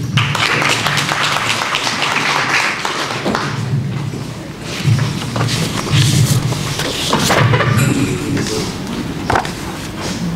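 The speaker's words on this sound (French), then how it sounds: "Sous vos applaudissements, s'il vous plaît." A French-speaking audience at a book dedication applauds to welcome Dr Abdoulaye Diallo, a steady wash of clapping with taps and thumps mixed in and voices murmuring underneath throughout.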